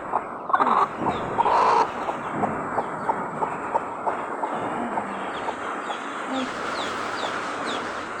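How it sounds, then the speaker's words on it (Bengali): Domestic desi hens cluck near their newly hatched chicks, a series of short repeated clucks at a steady pace, fairly close but soft, with a few louder calls early on. "এই যে মুরগি আমার"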